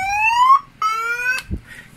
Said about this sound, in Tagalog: ano yung next thing na gagawin para tumigil yung alarm?